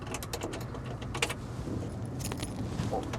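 Keys jangle in the ignition of a restored 1972 Ford F-250 camper special with a 360ci V8, a few quick metallic rattles and clicks close up against a quiet background.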